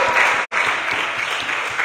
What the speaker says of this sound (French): Que j'entende vos acclamations pour notre Dieu.